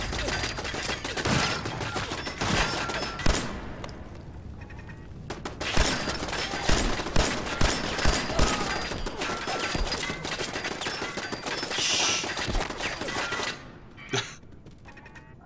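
Gunfire in the video game Fallout 4, dense chaotic rapid shots and impacts packed tightly over a busy, noisy game mix with no talking.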